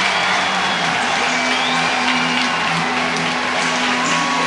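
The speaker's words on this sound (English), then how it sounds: "And that gets the crowd fired up." Fans at a Maryland versus Virginia men's lacrosse game roar and cheer after a Virginia goal, a loud, sustained crowd wash with scattered whoops and a faint tonal hum underneath.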